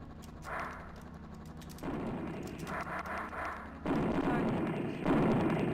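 Stinger missiles firing in a DOS video game: bursts of harsh, crunchy low-fidelity whooshes and rumbling blasts that grow louder in stages, with faint synthesized tones above and no talk.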